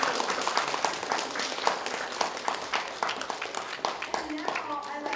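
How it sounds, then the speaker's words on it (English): Audience applause at a talk about coping with mental stress, brisk clapping from a crowd that fades toward the end as a voice begins speaking over it. "let's give a well round of applause to Dr."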